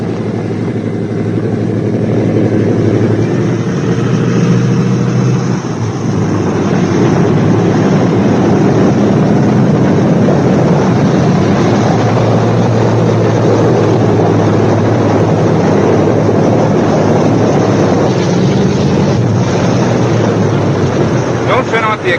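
Four radial engines of a 1943 B-17 bomber idle on the ground before shutdown, a steady loud droning rumble with wind buffeting that runs unbroken throughout, a voice speaking over it at times.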